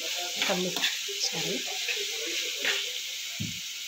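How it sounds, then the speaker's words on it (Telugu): Onion, green chili, cumin, mustard seeds and curry leaves frying in hot oil, a steady close sizzle with a few stirring scrapes and soft clinks throughout. "నూనె కాగిన కొంచెం జీలకర్ర, ఆవాలు, కరివేపాకు వేసుకొని ఉల్లిపాయ పచ్చిమిరపకాయ వేసి వేయించేస్తున్నాను."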